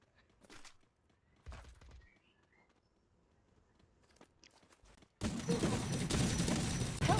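Several sharp, punchy shots crack out in short bursts with gaps between, then a dense, loud barrage of rapid gunfire fills the end, in the video game Free Fire.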